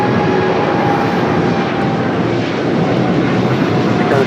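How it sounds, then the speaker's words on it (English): A Korean Air Cargo Boeing 777 freighter takes off from LAX, its loud, dense jet roar filling the air steadily throughout with no talking. "Korean Air Cargo 777 freighter taking off"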